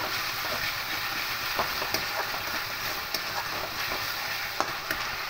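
Moong dal with masala is stirred in a pan, an even steady sizzle under intermittent soft scrapes and light taps from the spoon.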